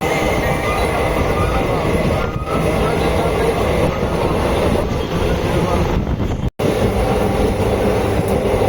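Steady, loud rumble of the Tambaram–Trichy Express running at speed, with wheel clatter and a continuous roar throughout and a brief dropout near the end.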